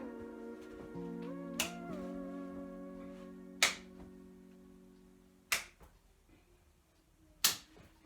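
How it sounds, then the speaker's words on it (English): During a year 5 and 6 PE throw-clap-catch drill with a ball, four crisp single hand claps land about two seconds apart over a faint sustained tone. "we're then going to go throwing it up, clapping and catching"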